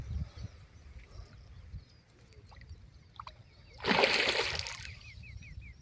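A hooked river fish of about half a kilo to a kilo slips free and drops back into the water with one loud, brief splash, heard near and clear after quieter rustling and faint water sounds during freshwater feeder fishing.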